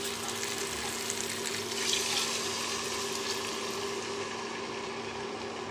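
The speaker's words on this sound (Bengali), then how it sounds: "এবারে আমি ঈষৎ উষ্ণ গরম জল দিয়ে দিচ্ছি।" Lukewarm water poured into a pan of egg and potato curry, a steady close splashing wash that swells briefly near the start, then runs on evenly without any talk.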